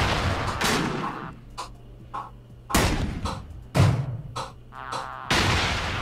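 Artillery bombardment in the video game REDCON: a series of sharp booming blasts and thuds spaced irregularly, loud and close, with a low hum running underneath.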